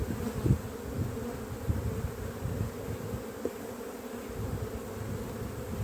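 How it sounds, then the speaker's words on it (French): Honeybees buzz around a hive on the coast as young bees are gathered to make a swarm, a continuous close low hum with no talking. "Donc je prends encore des jeunes abeilles."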